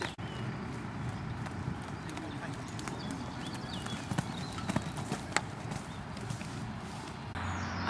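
Horse hooves trotting during jumping training, a steady rhythmic clip-clop on soft ground, moderately close, over continuous background noise with a few sharper knocks.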